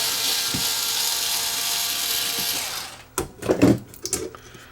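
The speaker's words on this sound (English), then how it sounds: "Let's use the real screwdriver." Screws being taken out of the back cover of a VOX DA5 DSP guitar amp: a steady close whirring for about three seconds, then a few sharp clicks and rattles as the cover screws come loose.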